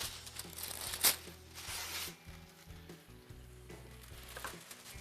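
Quiet sizzling of food frying in oil in a pan, with stirring clatter and a sharp scrape partway through.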